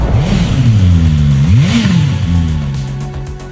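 A 2023 BMW S 1000 RR motorcycle accelerates hard out of a corner, its engine note rising, dipping briefly at a shift, then climbing again, loud and close.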